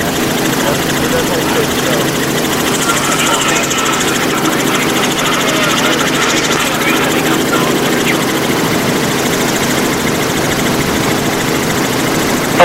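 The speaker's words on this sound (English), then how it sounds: "Helicopter's confirmed he's moving to station." A helicopter hovers and flies over a microgravity drop-test zone, a steady loud rotor and engine drone that holds for the whole stretch, with voices talking faintly beneath it.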